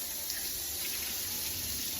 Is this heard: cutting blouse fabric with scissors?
no